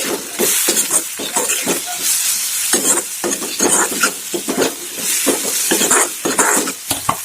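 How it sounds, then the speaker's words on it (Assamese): Tomatoes go into a pan of Assamese pork curry and are stirred, making loud, close sizzling and frying with repeated scraping strokes of the spoon against the pan throughout. "তো এতিয়া আমি দিম ইয়াত বিলাহী।"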